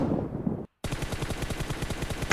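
Rapid automatic gunfire in the mobile battle royale game BGMI, a steady rattle of close shots after a brief gap, loud and dense with no talk.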